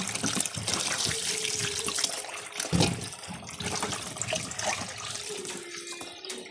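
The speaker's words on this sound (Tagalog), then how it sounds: "maglungag taog kalumpang, gahugas ko kalumpang, kay human naman ko upalot" Kalumpang seeds being washed by hand in water, a steady close sloshing and trickling with intermittent splashes and small knocks, no talk.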